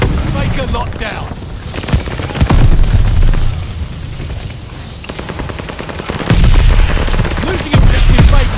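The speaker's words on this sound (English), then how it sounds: "Sending mortar shells!" Mortar shells bursting in Call of Duty: Vanguard, heavy booms mixed with rapid gunfire in a loud, continuous battle din, with shouted voices over it.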